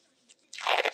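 Packaging crunches and crinkles up close while G.I. Joe action figures are unboxed, starting with a faint rustle and then building into a loud, dense burst of crackling lasting about half a second.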